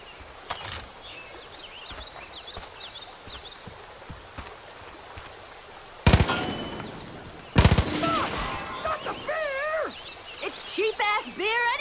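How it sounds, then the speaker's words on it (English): Bursts of gunfire in the video game Far Cry 5 aimed at a sewage tank: two loud, sharp volleys midway, then warbling, yowling game sounds and voices. "Shoot the sewage tank!"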